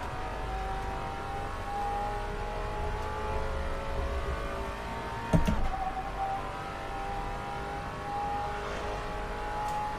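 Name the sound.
Maserati Alfieri engine in Assetto Corsa video game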